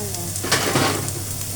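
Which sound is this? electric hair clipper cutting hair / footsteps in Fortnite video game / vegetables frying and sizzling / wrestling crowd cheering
vegetables frying and sizzling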